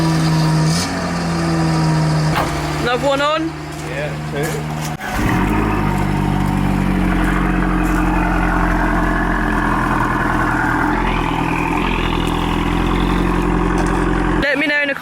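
Car engines, including a classic Fiat Panda and an Abarth, idle and rev while being moved out of the way, a loud, sustained mechanical drone with rising revs and people talking over it.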